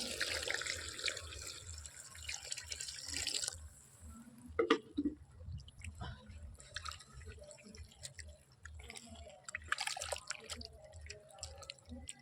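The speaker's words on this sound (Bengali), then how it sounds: "এবার এতে আমি পানি দিয়ে দিচ্ছি।" Water poured from a vessel into a cooking pot of khichuri with soybeans, carrot, potato and fried cauliflower, a broad splashing pour for about three seconds followed by scattered drips and light clinks, close and moderately loud.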